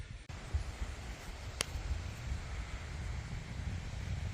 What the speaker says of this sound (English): we got like 10-mile-an-hour winds out here right now